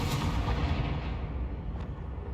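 In the Hogwarts Legacy video game, a Confringo blasting spell bursts into a loud, booming explosion. A broad roar follows and slowly fades, with a couple of sharper cracks layered over the rumble.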